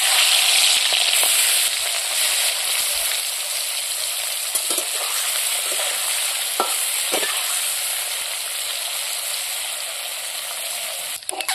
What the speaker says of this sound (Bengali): তেল গরম হয়ে গেছে, চিংড়ি মাছগুলো আমি ভেজে নেব।